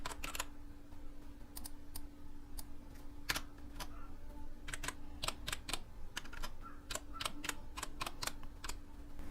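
Keys clatter on a computer keyboard as a package name is typed into an app store form, a steady run of quick clicks with short pauses, up close over a faint constant hum.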